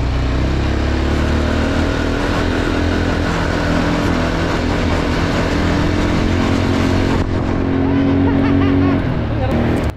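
An ATV engine roars loud and close during a ride through Paoay, Ilocos Norte, droning steadily with shifting throttle. It drops off near the end, with some voices in the background.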